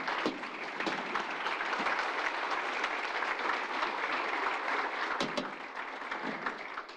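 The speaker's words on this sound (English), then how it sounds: "Please join me in a round of applause for our thoughtful speakers." Audience at a cybersecurity symposium in Uruguay applauding the speakers, sustained broad clapping from a full room, fairly close and even, with a few sharper individual claps standing out near the end.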